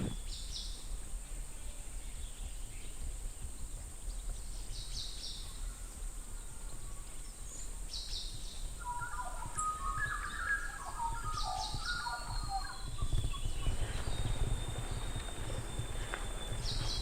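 Birds sing and chirp in Abel Tasman National Park, New Zealand, with scattered calls over a steady broadband wash of wind or water and a thin continuous high insect-like tone; a brighter cluster of bird notes rises midway.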